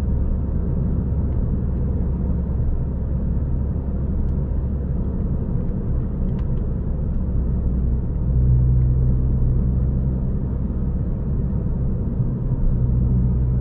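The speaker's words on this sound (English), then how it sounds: "You can hear the rumble in the background, that's the new exhaust that has been put on the car" A Peugeot 208 GTi's new exhaust gives a deep, steady rumble that drones on throughout, low and constant, with a brief swell partway through and no voices.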